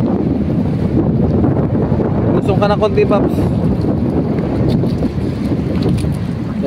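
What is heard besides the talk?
strong wind blowing on microphone outdoors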